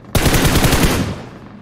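Automatic gunfire in a video game, a single loud burst of rapid shots lasting nearly a second, close and harsh, then a fading echo, with no talk.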